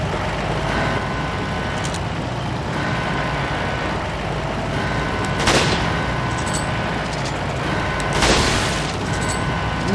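Gunfire in Resident Evil 4, with two sharp, loud shots standing out over a dense, steady rumble of game ambience, spaced several seconds apart.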